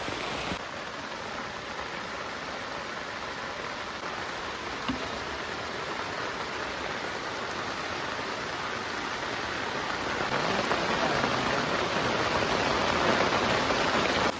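Heavy rain pours down on a camping tent in a dense, steady hiss with no break, swelling a little louder toward the end.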